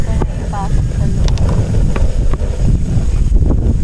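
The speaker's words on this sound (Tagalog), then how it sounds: "Uy, yung hangin, be." Gusty wind buffets the microphone at a free riverside campsite in Porac, Pampanga, a steady low roar with brief higher sounds, while people talk nearby.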